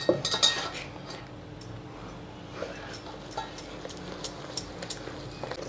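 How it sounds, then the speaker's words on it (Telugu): A spoon stirs flour into a thick jaggery and coconut syrup in a pot, scraping and clinking against the metal in a busy cluster at first, then lighter scattered taps and scrapes at close range. "ఈ బెల్లం కొబ్బరి పాకంలో కలిసేటట్టు తిప్పండి"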